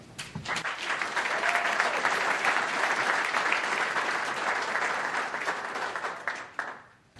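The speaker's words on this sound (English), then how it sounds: "And I'd like to have enough applause for Steve." Warm applause from the audience at the Villa Park Chamber of Commerce 2012 board installation ceremony, honoring a departing first vice president; clapping swells quickly, holds steady for several seconds, then tapers off to silence.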